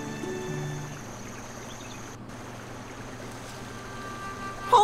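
A small boat glides down a brook in The Night of the Rabbit, a soft steady flow of water and gentle lapping under quiet game music, calm and even, with a brief louder chime at the end.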